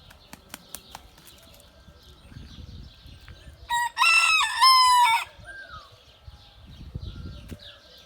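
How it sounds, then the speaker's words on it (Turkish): A Yüzpençe rooster crows once, loud and close, amid quiet farmyard background with a few soft clucks and bird calls. "Burada diğer bir 100 pençe horozumuz."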